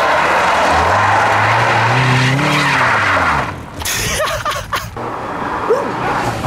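A car skids hard with the handbrake pulled. Tires squeal in a loud rising and falling whine for about three seconds, followed by rough scraping bursts and engine noise close by.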